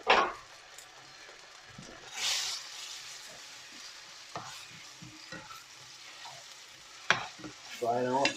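Garlic and ginger paste frying in a pan for a curry, a soft continuous sizzle with scraping stir strokes and occasional louder clatters of a utensil, heard up close without talking.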